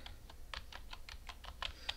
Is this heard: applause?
no